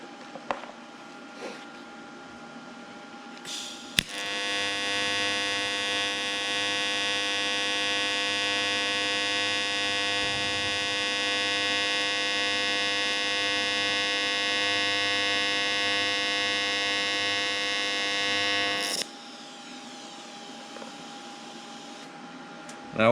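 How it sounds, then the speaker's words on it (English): Stick welding with a YesWelder Firstess 2050 multi-process welder using rod, a steady buzzing electrical hum that starts abruptly, holds evenly for about fifteen seconds, then cuts off, with quieter background noise before and after. "When I start the arc, it slowly increases, and then when I end it, it slowly decreases"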